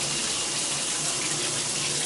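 Hot water pours steadily from a tap into a draining sink, a close, even rushing hiss that holds without a break.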